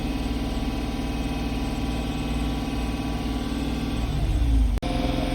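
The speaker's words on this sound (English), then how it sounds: "I am currently revving the motor up to get the temperature up" The engine of a 2000 Buick LeSabre or 2012 Chrysler 300 SRT8 is held at raised revs to warm the coolant, giving a steady close mechanical drone that swells slightly before a sudden brief cut near the end.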